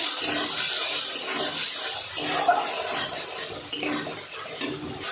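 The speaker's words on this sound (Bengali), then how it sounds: "দিয়ে একটু জল দেবো সামান্য, দিয়ে মশলাটা একটু কষাবো।" A little water poured into turmeric and spices frying in a pan while cooking a fish curry, heard as a steady loud hiss and sizzle with faint stirring, close and without speech.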